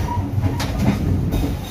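Argo Bromo Anggrek passenger train running at night, heard from inside as a steady low rumble of rolling wheels with faint rail clatter, continuous and fairly loud throughout.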